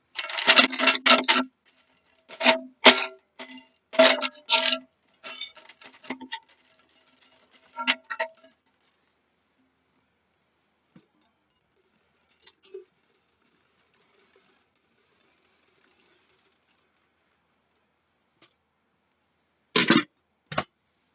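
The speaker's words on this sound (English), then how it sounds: "I'm going to shuffle this a little." Tarot cards riffle and snap in quick bursts, several shuffles close by, then a long quiet stretch and a final brief flutter of cards.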